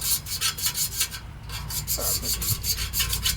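A furnace fan on an AC system, clogged with thick dust, is scraped clean, giving a steady close rasping and rubbing with repeated gritty strokes, loud and continuous, with no talking.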